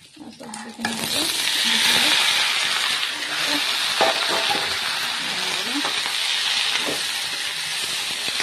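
Vegetables fry in oil in a kadai wok with a loud, continuous sizzle and hiss, joined by occasional scraping stirs. A quiet moment comes first, then the frying bursts in and stays close and strong.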